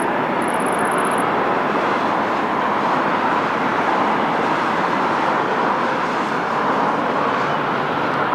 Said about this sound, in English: A319 of EasyJet.